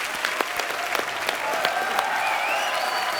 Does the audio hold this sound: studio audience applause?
yes